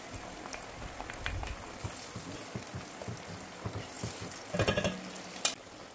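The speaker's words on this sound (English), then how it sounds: "I'm just going to allow the tomato paste to fry very well before adding the pepper mix to it." Tomato paste fries in the oil left over from frying goat meat, the base for a cucumber stew, giving a low, steady sizzle with occasional stirring scrapes and a brief louder crackle near the end.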